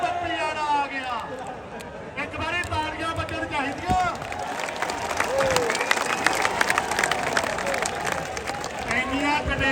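A crowd claps and cheers for a peacock at a pigeon fanciers' gathering in a Punjab village, dense continuous applause under overlapping voices, with birds calling above.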